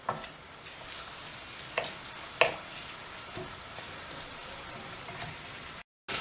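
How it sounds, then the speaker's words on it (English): Onions coated in peri-peri spices sizzling steadily in a pan over medium heat for a vegetable stir fry, with a few soft scraping knocks from stirring, heard close and even throughout. "I put my heat up to medium heat, and I'm just giving that a good stir"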